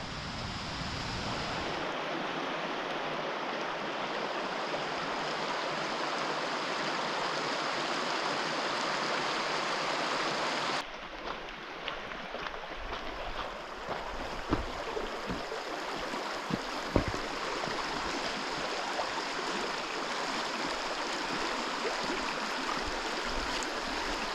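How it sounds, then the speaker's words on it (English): Falls Creek rushing through the Oregon Cascades, a continuous broadband roar of fast-flowing water, steady and fairly close, with a slight change in tone midway and some faint wind noise, no voices. "you can hear a creek ripping down here. I assume this is Falls Creek."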